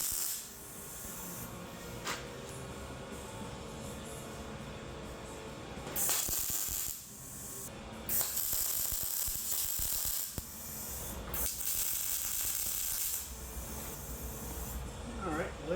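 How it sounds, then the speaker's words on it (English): A welder tack-welds metal pieces for a lowered car seat mount, making three separate bursts of harsh crackling hiss, each a second or two long, with quieter workshop noise between them. "I'm just gonna tack them because I don't want to set the seats on fire."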